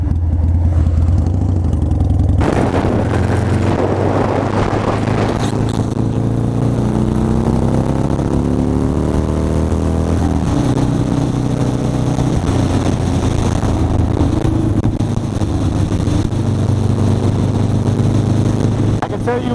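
A marketplace motorcycle revs hard while being ridden, its engine note rising and climbing in pitch through acceleration over a constant loud roar of wind and road noise.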